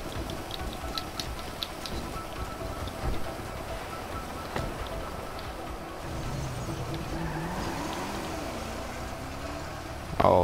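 Car driving in GTA 5 with two tires down, engine droning steadily with rising and falling pitch sweeps, over a rumbling game soundscape with scattered impacts and a sharp burst at the very end.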